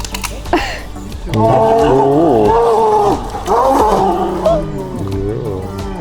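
Bears growl and roar in a wildlife park, a loud, rumbling call rising and falling for several seconds with a second animal briefly joining.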